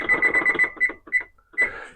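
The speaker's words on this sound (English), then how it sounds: "I'm going to set the timer." While banana bread goes into a 350-degree oven, a kitchen timer gives a quick run of sharp, high beeps, followed by a few scattered single beeps as it is set.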